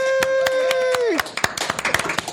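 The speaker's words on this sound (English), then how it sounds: "let's give her a round of applause" A short burst of applause with sharp individual claps, close and loud, after a sustained tone ends; a voice is briefly heard.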